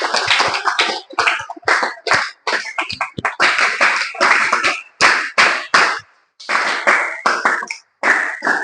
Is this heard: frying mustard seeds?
no